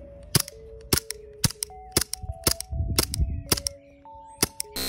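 An airsoft pistol fitted with a Novritsch SSP18 CO2 magazine fires about eight sharp, sparse cracks at uneven intervals. Faint clinks and a high ringing tone sound between shots.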